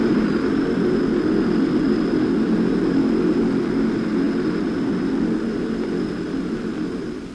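A Lockheed C-130E transport aircraft joining TAC's airlift fleet: a loud, steady engine drone with a thin high whine on top, holding constant throughout and easing slightly at the end, with no voices.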